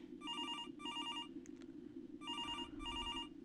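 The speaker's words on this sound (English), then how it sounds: "I was awakened suddenly at around 3 a.m. by my phone ringing" A telephone bell rings in two pairs of bursts with a short gap between, clear and steady over a low constant hum.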